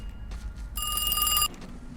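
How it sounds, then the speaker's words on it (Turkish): A single short burst of an electronic telephone ring, bright and trilling, cuts in over a low background rumble and stops abruptly, in the video game Squidward's Prediction. "Telefon çalıyor."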